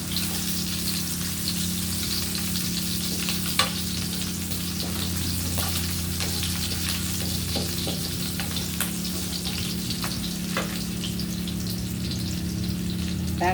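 Onion and garlic sizzle steadily in a pan, a continuous close frying hiss with a few faint clicks of stirring, and no talk over it.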